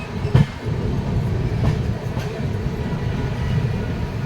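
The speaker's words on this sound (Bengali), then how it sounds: "সৌর স্টেশন থেকে ট্রেন ছাড়ার পর দেখতে দেখতে ট্রেন পৌঁছে গেল বালেশ্বর স্টেশন" The Jan Shatabdi Express rolls into Balasore station with a steady low rumble of carriages and wheels on track, loud and close, with a brief louder knock near the start.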